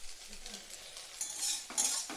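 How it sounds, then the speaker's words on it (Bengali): Scrambled eggs, made as an egg bhujia, fried and stirred in a pan: quiet, quick scraping and clinking of a spatula against metal, with a faint sizzle underneath and no voices. "পুরো এরকম ডিমের ঝুড়ো বা ডিমের ভুজিয়া করে এটাকে আমি ভেজে নিচ্ছি"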